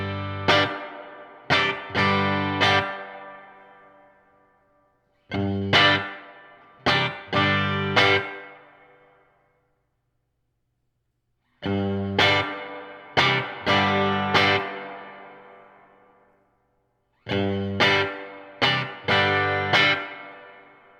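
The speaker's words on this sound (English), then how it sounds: "we got plenty of reverb on tap" Electric guitar chords played through a Silktone amp's reverb, strummed in short groups of three or four, each ringing out into a wash of reverb before long silent pauses.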